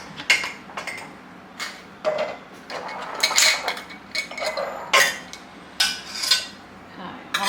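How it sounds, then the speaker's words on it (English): Metal canning lids clink and rattle beside glass jars while pressure canning ground beef, a run of bright, close metallic taps and small clatters in irregular bursts with no talk. "I'm gonna grab a couple lids"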